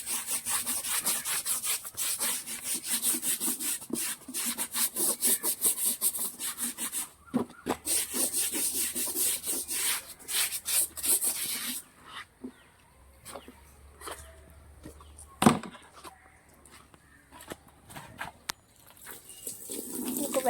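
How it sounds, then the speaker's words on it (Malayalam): Brush scrubbing the muddy floor of an auto-rickshaw during a wash, with repeated rasping strokes in quick rhythm, close and moderately loud, then sparser scrubs and a thump later on. "നമുക്ക് ബ്രഷ് ഇട്ട് കഴുകാവേ."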